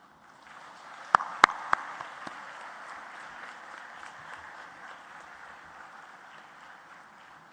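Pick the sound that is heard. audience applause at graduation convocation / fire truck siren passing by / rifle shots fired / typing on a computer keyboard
audience applause at graduation convocation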